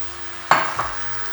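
Brown sugar in a pan hit by a splash of boiling water, giving a sudden loud sizzle that fades, followed by a smaller second hiss and a quiet simmer.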